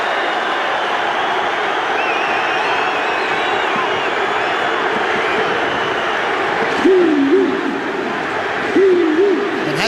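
Large stadium crowd at a rugby league Anzac Test between New Zealand and Australia, a steady roar of thousands of spectators running throughout beneath a commentator's voice, with a couple of brief whistles near the end.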